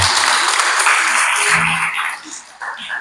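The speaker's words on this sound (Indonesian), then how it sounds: "Kita berikan tepuk tangan buat Tuhan." Applause from a church congregation during a Sunday service, a loud dense wash of clapping that swells and then thins out, with voices mixed in.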